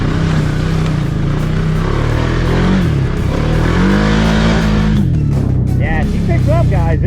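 A 2023 Can-Am Outlander 700 single-cylinder ATV accelerates hard through a mud hole, engine revving loud and close with rising and falling pitch, and a voice briefly heard toward the end.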